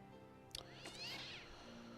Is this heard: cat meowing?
yes